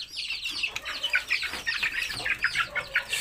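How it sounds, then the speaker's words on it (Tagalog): Backyard chickens, Blue Marans and young Shamo birds, cluck and chatter in quick, irregular bursts close by, several birds calling over one another with no voices. "Ayan yung blue marans natin."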